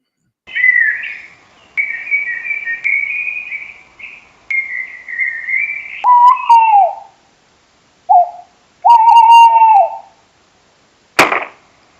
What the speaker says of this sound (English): there's 6 instances of owls hooting